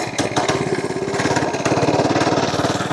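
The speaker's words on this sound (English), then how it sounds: "This is a pretty powerful engine for what it is." An FRP GMB100 mini bike with a 3 horsepower engine runs close by, giving a loud, steady, rapidly pulsing putter with a little mechanical clatter.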